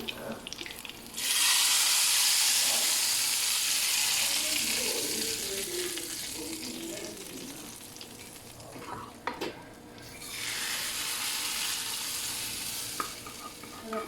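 Loud hissing sizzle bursts out as cumin seeds hit hot oil for a dal tempering, sustained for several seconds, dips briefly, then flares up again close by.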